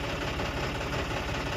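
A farm tractor engine idles with a steady, dense low rumble and an even knocking pulse, close and continuous with no voices.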